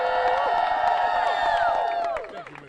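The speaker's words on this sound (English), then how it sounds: "Give her a round of applause." Audience at a press conference breaks into applause mixed with voiced cheers and whoops, a lively burst that holds steady for about two seconds before tapering off.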